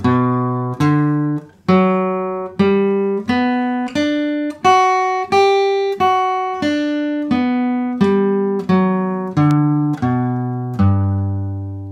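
A guitar picks out an E-shape major seventh chord one note at a time, each plucked note ringing clearly and alone in an even, unhurried sequence rising and falling across about a dozen notes.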